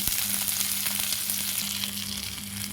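Onion and curry leaves fry in hot oil for an egg curry, a dense, steady hiss of sizzling close up, with a low hum beneath it and no one talking.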